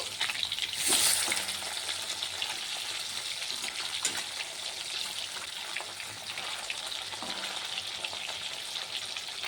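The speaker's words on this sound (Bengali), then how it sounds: "মাছটিকে ভালোভাবে ভেজে নেব।" Rohu fish coated in salt and turmeric frying in oil, a strong steady sizzle and crackling hiss with a brief louder spatter early on, close up and unbroken, no talking.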